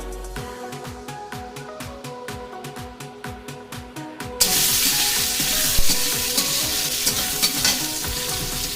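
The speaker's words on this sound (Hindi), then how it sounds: "सबसे पहले ना हम इसमें ज़ीरा डाल देंगे" Cumin seeds go into hot oil for a home-cooked rice dish. A run of quick, rhythmic tapping comes first, then a loud, bright sizzle bursts in and carries on close and steady with scattered crackles.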